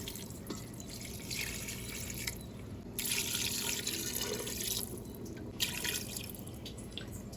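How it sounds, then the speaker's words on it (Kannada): Water poured from a glass into mutton curry, a splashing trickle that swells and fades in a few uneven bursts, close and alone. "ಈ ಥರ ಗ್ಲಾಸಲ್ಲಿ ನಾನು 4 ಲೋಟ ನೀರು ಹಾಕ್ಕೊಳ್ತಾ ಇದ್ದೀನಿ"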